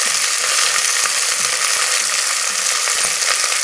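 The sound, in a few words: frying peas, cashews and raisins in pan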